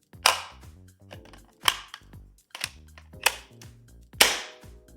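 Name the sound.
Nerf blaster shooting a dart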